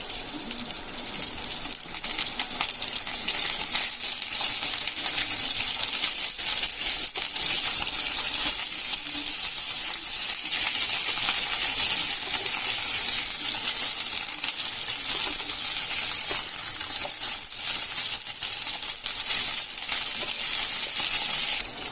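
Okra (bhindi) frying in a pan with onion, a steady close hissing sizzle with faint crackles running unbroken throughout, no talk.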